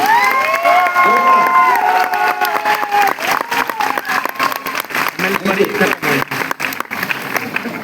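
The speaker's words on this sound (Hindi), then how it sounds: "एक बार जोरदार तालियां खुद के लिए होनी चाहिए।" A large crowd at the Jashn-e-Kashi event in Varanasi erupts in loud applause mixed with cheering, whistles and shouting voices, the clapping continuing in uneven bursts as the cheers subside.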